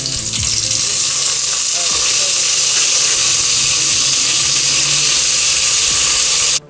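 Curry leaves and cut green chillies frying in hot oil, a loud, dense, continuous sizzle and crackle heard up close that cuts off abruptly at the end, with no talking.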